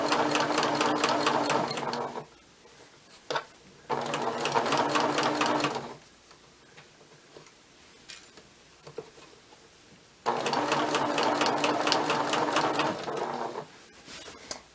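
A sewing machine stitches along a shirt hem in three loud rapid-chattering runs of a few seconds each, separated by quiet pauses with faint handling noise.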